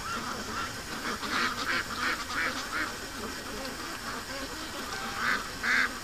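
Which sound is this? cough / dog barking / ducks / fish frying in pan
ducks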